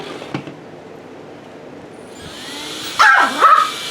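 Rocket Dog, a pet dog, barks at a ZD Racing DBX-10 RC car as its motor whine rises, with a couple of sharp nearby barks and yips toward the end over steady background hum.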